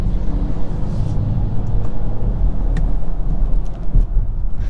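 A 2023 BMW X1 xDrive28i turbocharged engine accelerating in sport mode with aggressive gear shifts, heard from inside the cabin as a steady, loud low rumble with faint turbo whistle over road noise.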